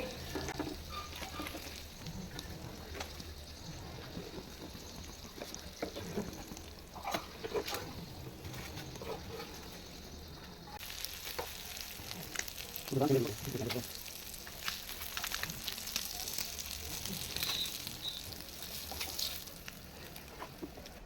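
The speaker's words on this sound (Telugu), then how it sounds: "ఇలా మంచిగా ఫ్రై చేసుకోవాలి పీసులన్నింటినీ" Pieces of pond-caught fish fry in oil in a pan for fish dum biryani, with a continuous close sizzle, occasional stirring clatter and a brief louder bubbling burst midway.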